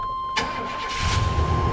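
A 1996 GMC C2500 pickup starting cold for the first time of the day: a short crank catches quickly and settles into a steady, rumbling idle, close and fairly loud.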